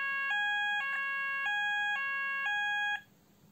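Fire alarm sounder on an Apollo XP95/Discovery addressable system gives a loud, close, alternating two-tone electronic warble that repeats in even cycles for about three seconds, then cuts off to quiet room noise.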